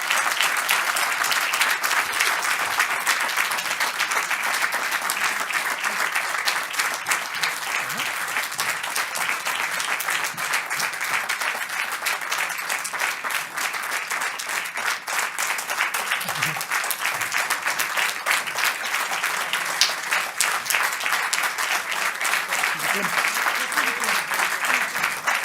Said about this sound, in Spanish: voy a pedir un fortísimo aplauso para ella